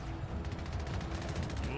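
SMG gunfire in a video game rattles as a fast, steady stream of shots, moderately quiet and continuous, with no pauses in the short burst.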